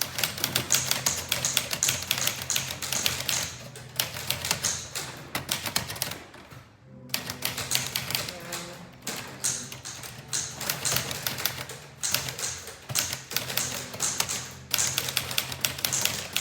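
Typewriters clatter nearby at a typewriting workshop, with dense bursts of key strikes in irregular runs and a brief pause midway, no speech.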